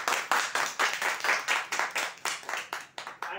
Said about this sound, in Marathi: जोरदार टाळ्या होऊ देण्यासाठी